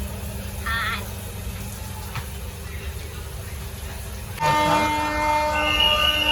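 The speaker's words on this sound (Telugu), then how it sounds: "కరెక్ట్గా 11కి అయితే ట్రైన్ అయితే స్టార్ట్ అయిపోయింది" Passenger train starting to move, with low rumbling in the carriage and then a louder rise of mechanical drone and tonal squealing, with a faint voice in the background.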